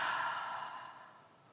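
A single deep, audible exhale during a guided relaxation breathing exercise, a soft breathy rush that starts strong and slowly fades over about a second and a half.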